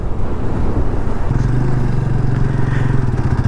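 A Hero HF Deluxe motorcycle rides along a road, its engine note holding a steady low drone with the throttle opening partway through, loud and close with wind rumble and no talk.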